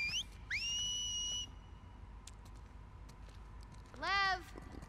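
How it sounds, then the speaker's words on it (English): A sharp two-finger whistle from a character in The Last of Us Part II, one long rising-then-held shrill note, then a quick upward-sweeping whistle a few seconds later, over quiet ambient game sound. "I like how they can whistle like that."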